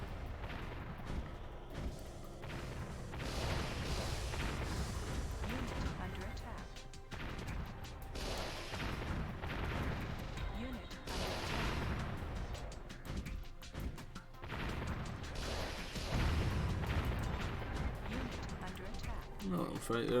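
Tanks battle in the strategy game Warzone 2100: dense, continuous rumbling cannon fire and crashing impacts overlap throughout, with a voice talking over the combat.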